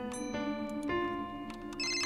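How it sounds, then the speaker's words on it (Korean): In the horror video game Miya Alone, a telephone rings with a bright, repeating electronic ringtone, moderately loud and up close, with the game's ambient background beneath it. "전화 왔네요?"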